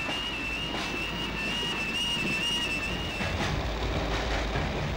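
Passenger train running on the railway line toward North Woolwich, with a steady rumble of wheels on track and a thin sustained high whine or squeal riding above it throughout, fairly close and continuous.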